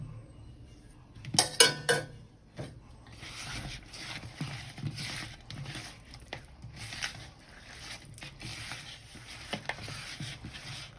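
Fried potatoes are stirred into marinating food in a pot, giving a few sharp utensil clinks against metal followed by soft, wet squishing and scraping that continue in irregular bursts, close and fairly quiet.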